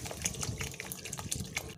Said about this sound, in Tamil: இப்போ கொஞ்சம் தண்ணி சேர்த்துக்கோங்க.